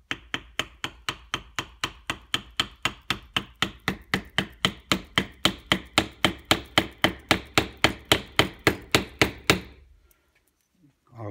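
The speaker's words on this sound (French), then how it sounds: "On prend un manche de tournevis ou un bout de bois, c'est pareil, hein, et puis on tapote." Steady rhythmic tapping with a screwdriver handle drives a part into a Bosch alternator, about forty sharp close knocks at an even pace, then stops into near silence.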